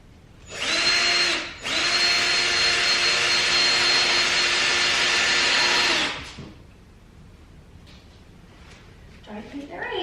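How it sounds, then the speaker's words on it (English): A power drill bores into a home wall in two sustained high whining runs, a short gap between them, loud and close, followed by quiet room sound and a voice talking afterward. "Got Brett's drill. Let's just hope there's no studs here."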